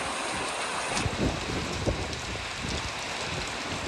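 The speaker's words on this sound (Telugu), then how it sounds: "ఓ అమ్మ వాన అయితే బేభత్సంగా పడుతుంది" Heavy rain pours down in a steady, dense roar without letup, close and continuous with no voices present.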